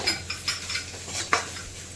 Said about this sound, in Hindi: देखिए मटर भून रही है।